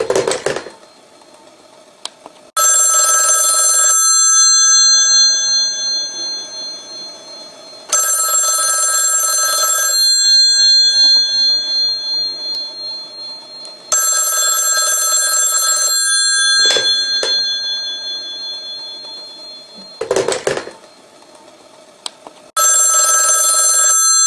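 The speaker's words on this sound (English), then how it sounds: "I'll start the phone ringing again." An old-style telephone bell rings loudly in repeated long bursts separated by short pauses, about five rings in a row, with no voices.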